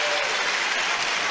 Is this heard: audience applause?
yes